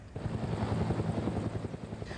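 A National Guard helicopter flies over flood waters during the 1997 Minnesota flood, its rotor thumping in a fast, steady pulse with a continuous engine roar.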